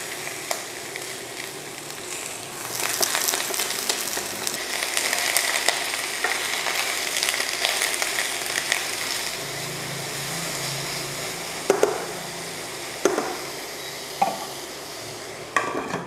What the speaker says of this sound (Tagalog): So, mag-caramelize tayo ng onion. Heated pan, olive oil